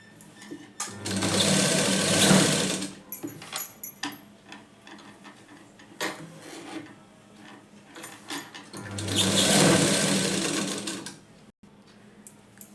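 Sewing machine stitching the back of a blouse, two long loud runs of rapid mechanical whirring separated by quieter handling clicks and pauses.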